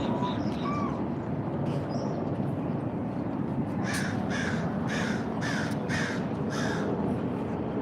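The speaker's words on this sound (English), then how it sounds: "That crow." A crow caws in a rapid series of about six harsh, loud calls over steady outdoor background noise, preceded by fainter bird chirps.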